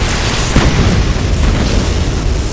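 An Imperium cannon shot goes off in Duke Nukem 3D, a loud, booming blast that fills the clip with dense rumbling noise and a sustained roar, with no talking.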